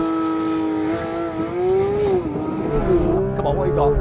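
A new Porsche 911 GT3 accelerates hard from a standstill to 60 mph, its engine note climbing loudly and steadily through the revs with a brief shift dip, close and dominant throughout.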